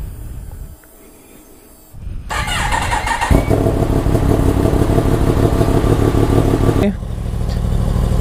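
A 2017 Yamaha FZ10 1000cc motorcycle starts up close by: a short quiet lull and a starter crank, then the engine catches into a loud, rumbling idle that holds steady.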